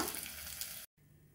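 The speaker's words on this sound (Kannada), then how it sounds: "ಸಾಸಿವೆ ಸಿಡಿದ ನಂತರ ಇದೊಂದು ಸ್ವಲ್ಪ ಫ್ರೈ ಆದ ನಂತರ ಒಗ್ಗರಣೆ ಹಾಕೊಳ್ಳೋಣ." Mustard seeds sizzle and crackle steadily in hot tempering oil up close, cut off abruptly by a brief silence before a quieter hiss resumes.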